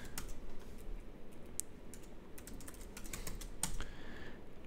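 Keys clack in an irregular stream of soft taps on a computer keyboard during a C programming session, with a few sharper clicks standing out over a steady low background hum; no one speaks.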